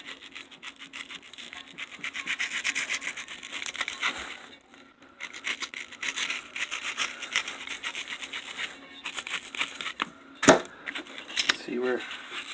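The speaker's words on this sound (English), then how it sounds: "We'll very carefully cut this dust cap off." A utility knife scrapes and saws around the dust cap of a Cerwin-Vega speaker being reconed, with close, continuous rasping strokes in uneven rhythm and one sharp snap near the end.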